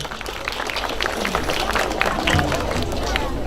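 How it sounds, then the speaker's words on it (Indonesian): Audience at an agricultural event applauds, a steady patter of clapping mixed with crowd murmur and voices, held at moderate loudness for a few seconds. "Tepuk tangan lagi sekali"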